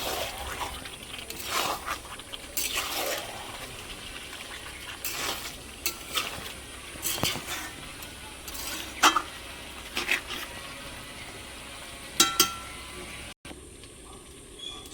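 Chicken is stirred in an iron kadai as it fries, with steady sizzling broken by repeated scraping strokes and clanks of the spoon against the metal, close and fairly loud.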